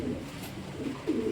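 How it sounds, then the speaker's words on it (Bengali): A large, strong female pigeon coos close by, a couple of low throaty rolling calls over a faint steady background, with no talk. "হেভি শক্তিশালী একটা মাদি কবুতর"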